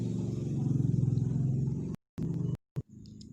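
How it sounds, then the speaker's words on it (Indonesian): A motorcycle engine drones steadily nearby, then cuts out abruptly in a couple of brief gaps before a softer tail of noise. "ada suara motor yang sangat mengganggu"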